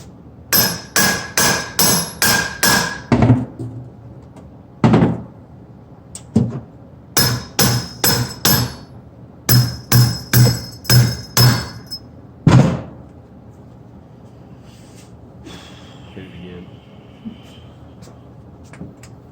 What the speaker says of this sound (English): It's a little hammer.